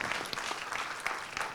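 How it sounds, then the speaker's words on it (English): Audience at the Power Talks event with Tan Sri Tony Fernandes breaks into applause, a steady, fairly soft wash of many hands clapping with a few sharper individual claps standing out. "you gotta give yourselves a round of applause"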